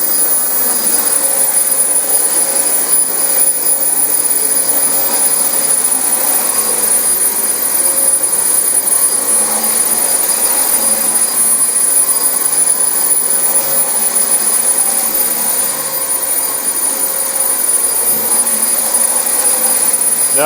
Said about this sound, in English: This vacuum is not running at its full potential right now.